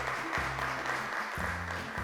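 Studio audience applause for contestants on a Turkish quiz show, a continuous patter of clapping under steady low background tones, moderately faint.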